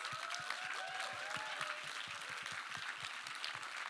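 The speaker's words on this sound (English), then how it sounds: "give a round of applause again for our panelists" Steady applause from an audience for a panel after a climate film event, a dense wash of clapping at moderate volume, continuing evenly throughout.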